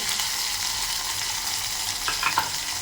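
Chopped onion frying in hot oil for a Maharashtrian pomfret curry gives a steady, even sizzle throughout, close by, with a few faint utensil clicks near the end and no talking.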